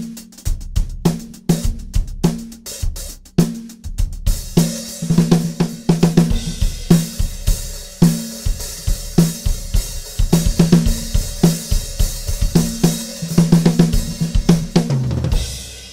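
14-inch Zildjian K Constantinople hi-hat cymbals are played in a quick rhythmic pattern, first sparse crisp chicks, then a busier groove with washy open hits, close and loud.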